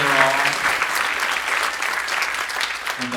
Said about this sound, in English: So let's have one more round of applause for these students who come here